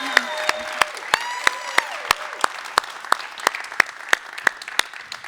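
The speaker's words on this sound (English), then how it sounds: "would you guys join me in giving her a round of applause?" Audience round of applause at a brand launch event for a crane and material-handling company, with crowd clapping and evenly spaced sharp, loud claps standing out near the microphone, along with some faint voices.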